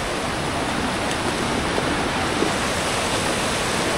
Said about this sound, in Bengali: এভাবে উপর দিয়ে জল নামছে